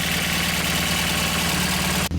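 Volkswagen GTI engine idling after sitting unused for over two years, running unhealthy with lifters tapping; a close, steady mechanical rumble with a fast regular ticking pulse, cutting off abruptly at the end.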